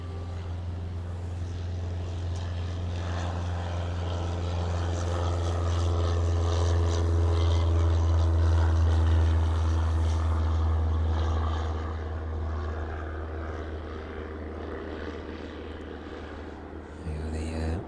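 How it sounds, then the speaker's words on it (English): A Cessna 152 light aircraft from a flying school departs East Midlands Airport, its propeller engine droning steadily, swelling louder mid-clip as it passes and then fading into the distance. "Cessna 152 from the flying school here at East Midlands making its way out."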